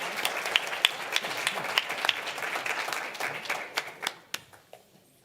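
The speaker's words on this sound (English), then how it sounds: "if we could give a round of applause to our pledge leader this evening" Applause at a school board meeting honoring a student pledge leader: a small group claps with distinct individual hand claps, fairly close, thinning out and tapering to a few scattered claps at the end.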